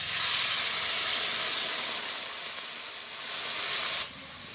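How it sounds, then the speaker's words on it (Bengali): Water poured into a hot cooking pan over a village cooking fire, a loud steady hiss and sizzle of steam that eases off mid-way, swells again, then drops sharply near the end, with no talk. "এখন জল দিয়ে দেবো।"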